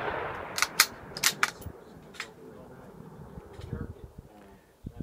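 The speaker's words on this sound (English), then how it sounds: "See how they each respond to 22 Magnum at about 50 yards." Several sharp .22 Magnum rifle shots from a Savage 93 BSEV fired at plastic jugs about 50 yards off, cracking in a quick cluster early on, then a few fainter distant pops over outdoor insect buzz.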